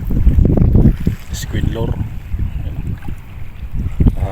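Strong wind on a coastal fishing spot at Al Reem Island, Abu Dhabi, buffeting the microphone in loud, uneven low gusts while someone talks over it.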